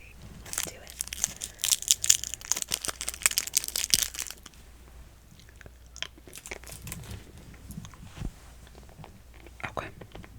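A blue Jolly Rancher hard candy is crunched and chewed right at the mic, a dense run of crisp, rapid cracks that later thins into scattered, quieter bites with soft whispering around them.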